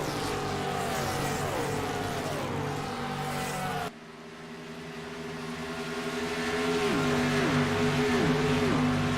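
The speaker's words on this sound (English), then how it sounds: "Brian Lawhead at the top, rounds out the top 5 here on lap 27 here at Las Vegas Motor Speedway." Race cars lap Las Vegas Motor Speedway, their engines a loud, droning whine that shifts pitch as cars pass and change gear, with a sudden cut partway through and rising engine noise again afterward.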